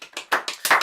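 Several quick hand claps ring out close and loud in an uneven rhythm, with no voices over them.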